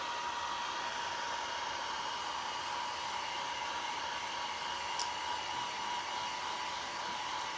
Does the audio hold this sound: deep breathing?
no